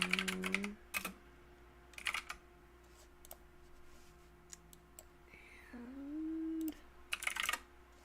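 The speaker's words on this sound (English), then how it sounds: "You guys have got to hear the clicky keyboard." Clicky computer keyboard typed in short, close bursts of rapid keystrokes, separated by quiet pauses, with a faint steady hum and a brief wavering tone in between.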